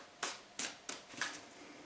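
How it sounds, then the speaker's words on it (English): Tarot cards being shuffled by hand, four short crisp riffling bursts evenly spaced about a third of a second apart, fairly quiet against a soft background hush. "when I was shuffling the cards"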